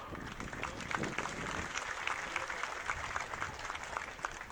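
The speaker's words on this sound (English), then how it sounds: "Please give her another big round of applause, ladies and gentlemen." Faint, distant applause from an outdoor crowd at the Toowoomba Carnival of Flowers parade, greeting the State Premier, soft and continuous against open-air ambience.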